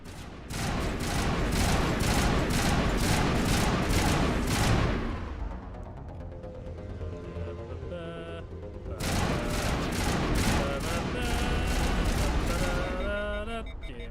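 Dense game gunfire from Mass Effect Legendary Edition, rapid volleys of shots packed into a loud continuous barrage that thins briefly in the middle, then returns at full intensity, with effects and voices mixed in.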